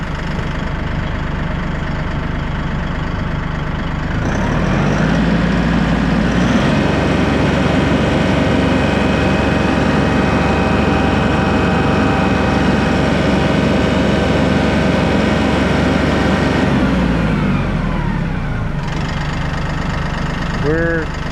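A Massey Ferguson 1E.40 compact tractor's diesel engine revs up from idle to a higher steady speed, holds a loud even drone, then drops back. A voice talks briefly.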